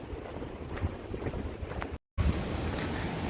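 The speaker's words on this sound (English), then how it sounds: "Super windy, but the breeze is actually really nice because it cools us off." Strong wind buffets the microphone on the Appalachian Trail, a steady low roar with gusts that swell and fade, broken by a brief dropout partway through, with no talking.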